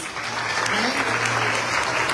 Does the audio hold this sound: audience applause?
yes